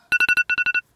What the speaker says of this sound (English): Oh my god, the stupid phone.